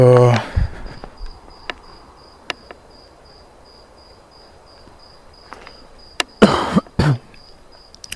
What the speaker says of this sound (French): c'est moi qui tousse